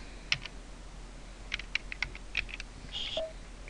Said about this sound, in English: I'm just going to click on images and type in Harley.